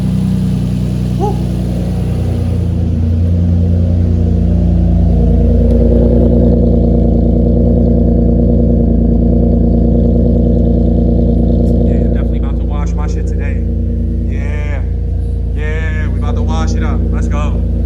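A 6th-generation Nissan Maxima with a freshly swapped six-speed manual transmission idles and revs with a deep, steady engine drone close by, while someone talks over it in the last few seconds.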